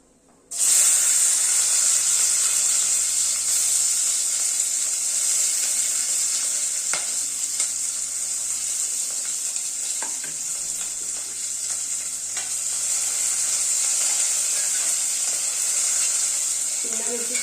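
Capsicum hitting hot oil bursts into a loud, steady sizzle that carries on alone for the whole stretch while it is sautéed for a dhaba-style veg Kolhapuri, with occasional faint scrapes of stirring.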